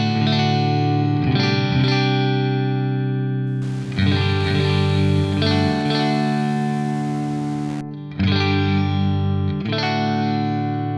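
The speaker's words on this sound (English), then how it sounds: "if we turn the bit reduction up, you'll basically hear the delay sound crappier and more lo-fi" AX8 effects unit running a lo-fi digital delay with heavy bit reduction, guitar chords ringing out with a harsh, gritty repeating tail and a burst of crunchy noise in the middle, loud and sustained throughout.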